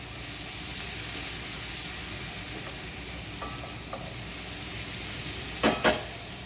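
Bacon renders its fat in a cast iron pan with a steady, close hissing sizzle and faint stirring, ending with two sharp knocks of a utensil against the pan.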